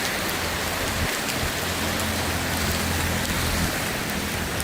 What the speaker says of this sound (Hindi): हम रुके थे खाने और यहाँ बारिश लग गई बहुत ज्यादा।